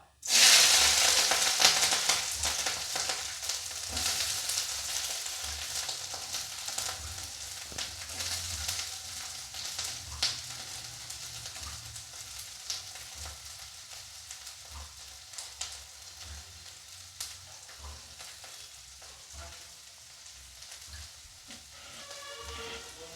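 Green chillies for pickle sauté in hot oil with a loud burst of crackling sizzle as they go in, settling into a steady, dense frying hiss broken by occasional pops and spatters that slowly eases.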